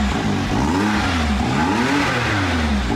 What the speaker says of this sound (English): So we're gonna do the before with the stock exhaust.